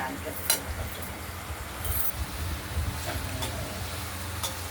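Ground spice paste fries in oil in a pan for a paneer curry, giving a faint continuous sizzle with a few soft clinks and stirring scrapes, all quiet and steady.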